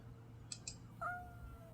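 A house cat gives two short faint chirps followed by a brief rising meow, quiet and close in an otherwise still room.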